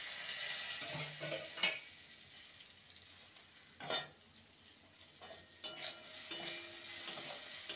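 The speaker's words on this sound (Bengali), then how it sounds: "আলুটাকে মোটামুটি কুক করে নিতে হবে ভেজে, পাওয়ার কমিয়ে ঢাকা দিয়ে দিয়ে।" Potatoes fry in a covered pan over lowered heat, a soft steady sizzle running throughout, broken by a few brief stirring clinks and scrapes of utensils, close and quiet with no talking.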